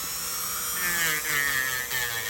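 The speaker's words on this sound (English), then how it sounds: "This sander works really well." A Dremel sanding attachment grinds down a thick fungal toenail, giving a continuous high-pitched, close whine that wavers slightly in pitch for a couple of seconds.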